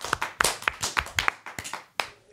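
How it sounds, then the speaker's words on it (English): A few people clap in a podcast studio, a short, sparse burst of about a dozen distinct claps, close and uneven, trailing off after two seconds. "Give him a round of applause"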